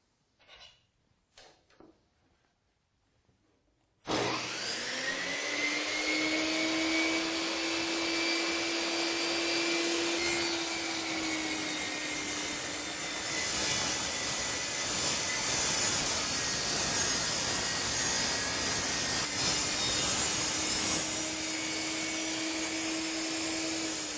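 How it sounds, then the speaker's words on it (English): A table saw spins up with a loud, sustained whine and makes a rip cut through a board set against a fence locked at 4 inches. The steady blade drone runs to the end, after faint handling sounds at the start. "Now, I'm ready to make a rip cut."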